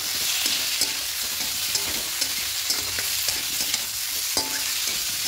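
Grated and chopped coconut stir-frying in a pan for vegetarian khichuri, giving a steady loud broadband sizzle with regular scraping strokes of a spatula close by and no voices.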